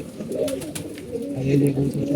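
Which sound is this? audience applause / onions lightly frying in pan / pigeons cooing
pigeons cooing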